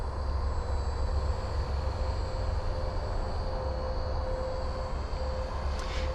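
A Hobbyking RC paramotor's electric motor runs at about half throttle in flight at sunset, giving a steady, moderately loud whine with a low droning hum, even and continuous with no talk.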